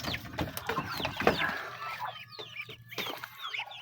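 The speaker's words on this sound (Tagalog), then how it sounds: "Ito ang ating mga bagong pisa." Newly hatched chicks about a month old peeping in their pen, many rapid high chirps overlapping nearby alongside some low clucking, quiet and continuous.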